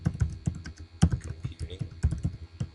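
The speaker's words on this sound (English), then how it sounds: "Go to the search, type in effective" Quick, uneven typing on a computer keyboard while entering a search, with close, crisp key clicks in irregular bursts and a few heavier strokes, alone without talk.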